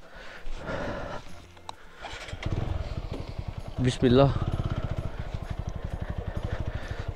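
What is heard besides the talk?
TVS Apache 160 4V motorcycle engine riding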